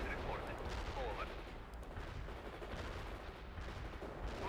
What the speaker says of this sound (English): Artillery strike hit the mark.